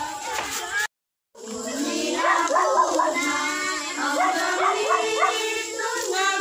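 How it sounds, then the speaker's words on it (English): A dog yelps and whines in high, wavering cries, with a brief silent gap early on and a person's voice murmuring underneath. "Choy, don't bark."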